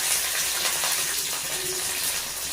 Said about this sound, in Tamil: கடுகு ஜீரகம் நல்லா பொரிஞ்சு வருது